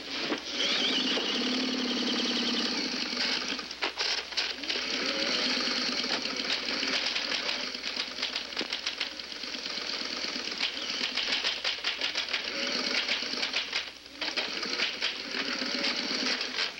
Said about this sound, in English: I want to stay here and watch you work the typewriter